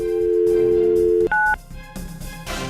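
A phone number is keyed in on a telephone: a long tone is followed by a quick pair of touch-tone digit beeps, then muffled background sound, with no voices.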